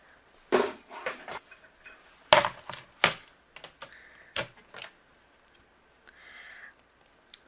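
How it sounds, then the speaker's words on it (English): A cotton cardstock panel is fed through a die cut machine while cardmaking, giving scattered sharp clacks and ratcheting knocks up close, with a brief grinding whir near the end. "My cotton panel, we're going to run this through the die cut machine"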